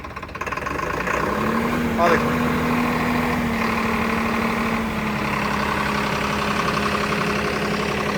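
A Swaraj tractor engine runs steadily with a deep, even drone that never lets up, close by, while people talk over it.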